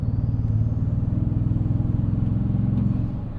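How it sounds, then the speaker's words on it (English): A 2026 Toyota Tundra TRD Pro, tuned twin-turbo and 466 hp, gives a steady, loud, deep exhaust drone under load, with faint turbo whistle above it. "sometimes the exhaust, if you're really in it, all you hear is that exhaust"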